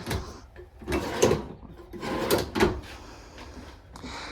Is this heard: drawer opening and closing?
yes